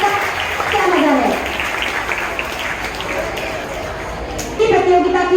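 Applause and clapping from a crowd honouring a prize winner at a Hindi Divas school event in Kurla, a steady wash of claps running several seconds with a voice speaking over it and a fresh burst near the end.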